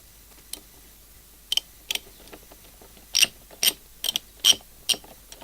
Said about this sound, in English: just finish it off with the socket